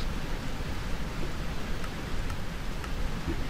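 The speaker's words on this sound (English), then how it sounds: "is it raining? I think it's raining." Steady rain falling in the Minecraft video game, heard as a continuous broadband hiss with faint scattered ticks, moderately loud and unbroken throughout with no speech over it.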